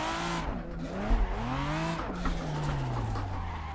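Car tires sliding through a hairpin drift in Assetto Corsa on Xbox One, played on a Logitech G920 wheel, with a Supra drift car: a steady engine drone under a long continuous tire hiss that shifts pitch as the revs rise and fall.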